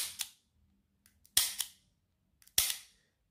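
A Taurus Model 605 .357 Magnum revolver dry-fires in three sharp, loud metallic snaps spaced about a second apart, each preceded by faint clicks as the cylinder rotates, with silence in between.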